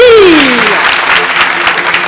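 A loud crowd applauds steadily at a university debate event, with a voice trailing off over the first clapping.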